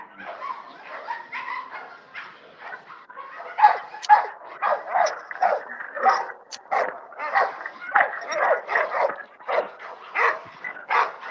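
A dog barks repeatedly in quick bursts, some sharper and some yelping, fairly close and growing more insistent midway, with voices talking faintly in the background.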